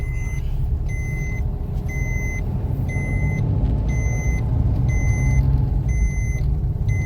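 A Maruti Swift runs along in third gear, its engine and road noise forming a steady low rumble, with a regular series of electronic beeps chiming over it throughout.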